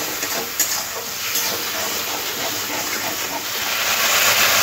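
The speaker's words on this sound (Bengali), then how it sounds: "আর মশলা দেওয়া জলটা দিয়ে দেবো, দিয়ে মশলাটাকে একটু ভালো করে কষে নিতে হবে।" Spiced water poured into frying masala for a Bengali banana flower mocha ghonto, a loud continuous hiss and sputter of liquid hitting the hot pan, steady and close throughout.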